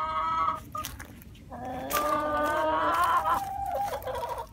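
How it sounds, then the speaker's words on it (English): Several chickens cluck and squawk close by in a lively chorus, with tonal calls rising and overlapping through the middle, set against faint outdoor background noise. "Would you look at these chickens?"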